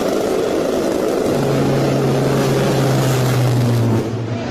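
An A-10 Warthog jet roars loudly overhead while its GAU-8 Avenger cannon lets out a sustained, droning buzz of rapid fire lasting a few seconds.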